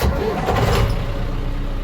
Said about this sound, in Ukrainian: заводимо зараз тракторець наш